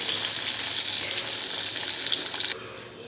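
Pieces of potato frying in oil in a pan over a low flame, giving a steady, close, continuous sizzle that drops abruptly to a quieter hiss near the end.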